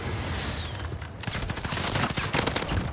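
An M4 assault rifle fires rapid bursts in Modern Warfare, dense overlapping shots that grow louder toward the end over a constant noisy backdrop.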